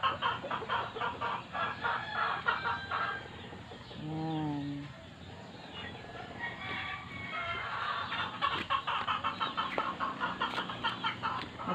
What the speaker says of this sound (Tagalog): ang ingay ng mga alaga na manok